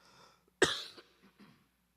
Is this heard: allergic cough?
yes